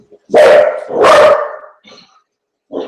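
A dog barks twice in quick succession, loud and close, each bark full and resonant, followed by a few fainter yips and a short bark-like sound after a pause.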